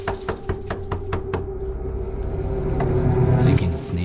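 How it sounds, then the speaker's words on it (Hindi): Sharp knocks on a door, used as a horror-story sound effect, come as a quick burst of about six raps in the first second and a half, then give way to a low, swelling drone. "तभी किसी के दरवाजा खटखटाने की आवाज सुनाई देती है"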